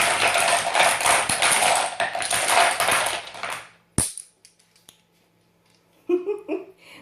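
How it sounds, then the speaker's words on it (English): Tarot cards shuffled loudly by hand, a dense run of papery riffling and slapping for about four seconds, then a sharp snap and scattered soft taps and rustles as cards are thrown down. "it gets a little loud as I shuffle them"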